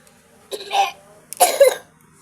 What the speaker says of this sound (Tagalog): may ubo po kayo